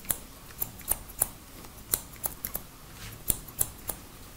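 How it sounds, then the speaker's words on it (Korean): Scissors cut hair for a men's crop haircut, making a quick run of sharp, crisp snips close up, irregular but steady, with no talking. "뭐 이제 가위로 먼저 이렇게 전체적으로 한번 이 라인 한번 잡아볼게요."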